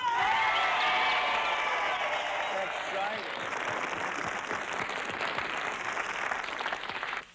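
Studio audience applauding for television producer Norman Lear, a steady, dense wash of clapping held at even strength throughout, with some voice-like tones mixed in near the start.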